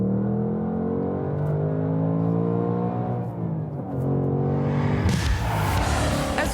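A Ford Mustang Dark Horse with its 500 hp V8 engine revs and accelerates while driving, a loud steady drone rising in pitch, easing briefly, then surging into a harsher, louder roar near the end.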